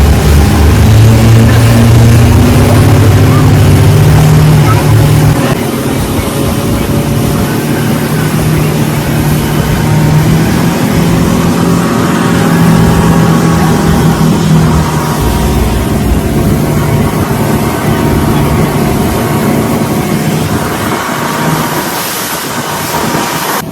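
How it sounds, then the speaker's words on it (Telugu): A small motorboat speeding across Ha Long Bay, its engine a loud continuous drone with rushing, churning water close by throughout. "మరి మా యొక్క బోటు ఎంత స్పీడ్గా వెళ్తుంది నీటిని చీల్చుకుంటూ అనేది ఆ సౌండ్ మీరే స్వయంగా వినండి"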